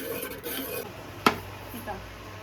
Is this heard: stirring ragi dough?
yes